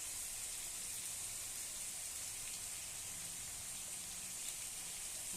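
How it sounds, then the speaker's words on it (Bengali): Tempering spices frying with salt and turmeric in a pan give a steady, soft sizzling hiss that runs unbroken and fairly faint throughout. "ভালো করে ভেজে নেব নুন আর হলুদ দিয়ে"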